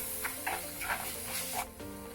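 Drumstick leaves stir-fry being tossed in a pan over a steady close hiss, with a few soft scraping strokes of the spoon in quick succession.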